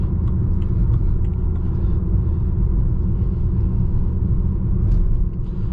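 Steady, loud low rumble of road and tyre noise inside a BMW E90 328i sedan riding on noisy RS4 tyres, a constant droning roar with no talk over it.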